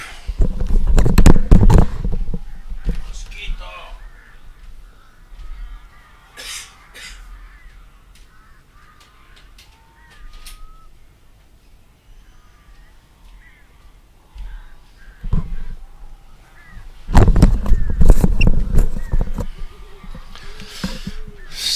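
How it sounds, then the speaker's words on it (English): Crows cawing and flapping in an attack in the video game Alan Wake, in two loud harsh bursts at the start and end with quieter scattered squawks and game ambience between. "Save Barry from the birds."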